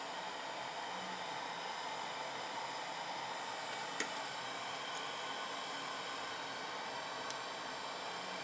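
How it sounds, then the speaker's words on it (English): A heat gun on medium-high heat warms PETG Nerf blaster barrels, producing a steady close blowing whoosh that stays even throughout, with a couple of faint clicks. "I'm just going to quickly put them over the heat gun on middle-ish high heat."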